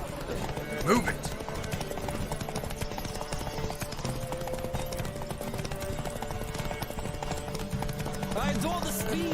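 A horse gallops in The Witcher 3 during a horse race at Ard Skellig's Larvik Bay area, with steady rhythmic hoofbeats running under music and game dialogue throughout.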